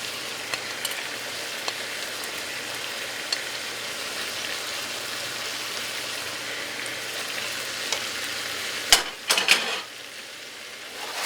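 Blanched, sautéed raw green beans sizzle steadily in a pan on low-medium heat, an even close hiss that continues throughout, broken near the end by a brief cluster of louder clatters as they are tossed.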